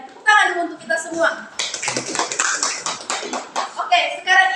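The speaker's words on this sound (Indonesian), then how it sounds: "tepuk tangan dulu untuk kita semua" Children in an elementary school classroom clap their hands together in a burst of uneven, overlapping claps, with voices chattering and calling out over and around the clapping.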